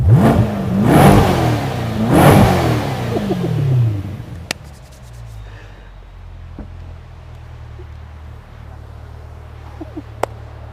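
A car in its loudest Z drive mode with a muscle-car engine note revs twice in quick, loud, rumbling bursts, then settles to a low idle hum with a few faint clicks, nearby and without talk.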